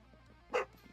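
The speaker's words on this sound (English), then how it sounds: "I don't know what the hell the dog's barking at" A single short dog bark heard once from a pet dog somewhere in the house, sharp and moderately close under a quiet background.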